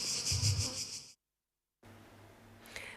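Honeybees buzzing around a hive, a steady insect drone that cuts off into a gap of silence and then comes back thinner and quieter.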